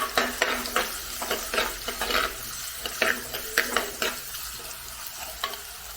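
Chopped shallots softening in oil in a pan, with a soft sizzle under repeated rhythmic stirring strokes and occasional clinks of utensil on metal.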